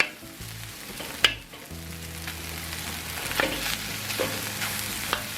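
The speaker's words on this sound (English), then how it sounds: "And stir fry it around." Bacon and egg fried rice being stir fried in bacon fat, a continuous close sizzle punctuated by sharp scraping clanks of the utensil against the pan, one heavy knock early on and lighter ones after.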